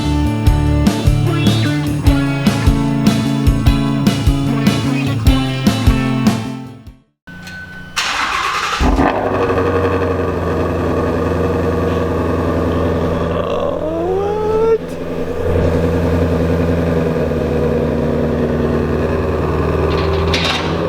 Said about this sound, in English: absolutely all of that went away the second he fired up the car